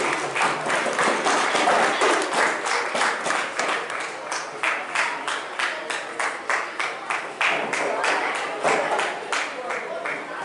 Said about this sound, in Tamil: அஸ்ரப் முகமது ஆஷிக் அவர்களை உங்களுடைய பலமான கரகோஷத்துக்கு மத்தியிலே அன்போடு மேடைக்கு வருமாறு அழைக்கின்றேன